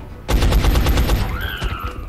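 Automatic gunfire in XCOM: Enemy Unknown: a loud, rapid burst of about a dozen shots in quick succession, followed by a sharp ringing tonal effect as the volley ends.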